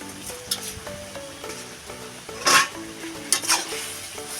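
Ash gourd curry stirred in a pan with a utensil, the food sizzling softly beneath a few scraping strokes and metallic clinks against the pan.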